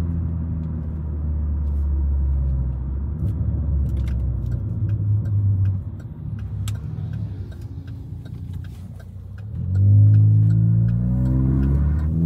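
A Chevrolet Cruze turbo with a Stage 2 tune pulls in third gear, its engine rumbling steadily and then rising in pitch as it accelerates toward the end, with light ticking in the cabin.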